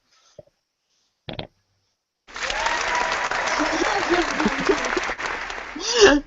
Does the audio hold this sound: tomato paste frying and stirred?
no